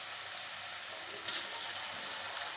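Bottle gourd pakoras frying in an iron kadhai give a steady, faint hiss of oil with light crackles throughout, heard alone.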